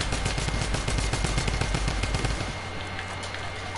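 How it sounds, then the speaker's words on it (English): Rapid gunfire from the video game Fortnite, dense and loud bursts of shots for about two and a half seconds before cutting off to a quieter background. "Getting shot from two angles."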